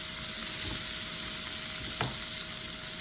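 Meat frying in a hot pan for Filipino calderita, a steady close sizzle with faint stirring scrapes and a brief clink.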